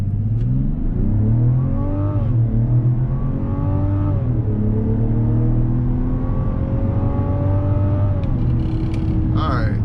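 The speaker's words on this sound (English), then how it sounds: "So we're gonna do 0 to 60 first, just in regular mode, and see what it's like." A 2024 Mazda CX-90 accelerates hard from 0 to 60 mph in regular mode, engine climbing through several gear shifts in repeated rising sweeps, loud and close from inside the cabin, with no talk over it.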